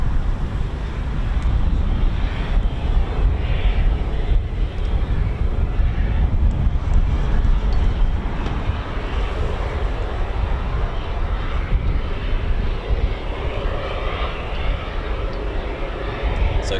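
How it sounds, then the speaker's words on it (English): A USAF KC-135 tanker aircraft taxiing at RAF Mildenhall before departure, a steady, loud low engine roar and rumble filling the whole stretch, with wind buffeting the microphone. "So it's a KC-135 about to depart."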